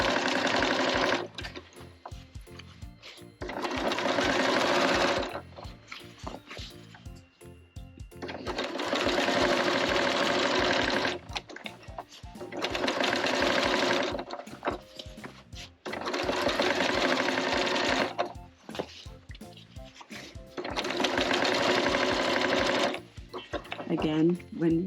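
A sewing machine stitching over the handles of a caddy made from an old quilt, loud whirring runs of several seconds each, stopping and starting repeatedly, close by, with a voice talking in the pauses.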